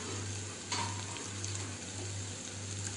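Capsicum sizzling with golden onions in a pan for a paneer dish, a steady soft frying hiss with a low hum beneath and a few faint clinks of stirring.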